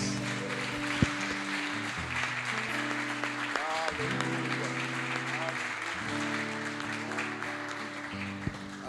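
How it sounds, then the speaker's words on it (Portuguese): A church congregation applauds during a Portuguese-language worship service, steady soft clapping blended with sustained keyboard chords and low music, fairly faint and continuous for several seconds. "Vamos aplaudir a Jesus."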